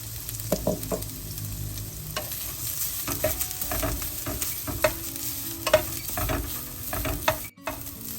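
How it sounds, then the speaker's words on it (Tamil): Grated coconut fries in ghee in a pan while being stirred. A close, steady sizzle runs throughout, with repeated scrapes and taps of the spoon against the pan. "நான் இந்த தேங்காய் இப்போ கொஞ்சம் நேரம் வறுத்து எடுக்க போகிறேன்"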